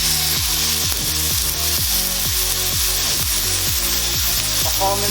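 Lamb chops sizzle in a hot pan (kawali) for grilling, a loud continuous frying hiss with steady repeated scraping or clacking underneath.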